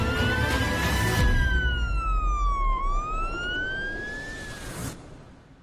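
An Indian ambulance siren wails loudly and up close, its pitch sweeping slowly up and down in long cycles over a rumbling background.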